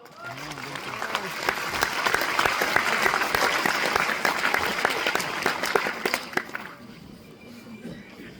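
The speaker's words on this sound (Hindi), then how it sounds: "ताली बजा लो" Dense applause from a seminar audience swells and holds steady for several seconds before thinning out near the end, with some voices mixed into the clapping.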